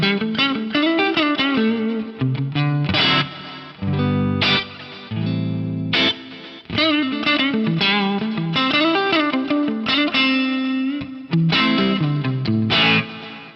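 Guitar played through an Eventide H90 Harmonizer set for delay and reverb, with distorted chords and single notes trailed by echoing repeats and washy tails, loud and continuous with brief gaps and no voices.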